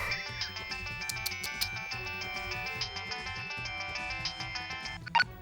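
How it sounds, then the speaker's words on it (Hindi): A mobile phone ringtone plays loudly and steadily, a repeating melodic tune over a rhythmic beat, ringing on without any talk before a brief clatter near the end. "तो इस फोन को अभी बजना था।"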